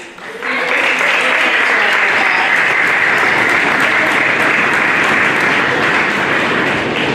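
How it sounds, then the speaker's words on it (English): An audience at a school strings concert gives a round of applause, a dense, loud and steady wash of clapping that begins abruptly and holds for about seven seconds. "a round of applause for you"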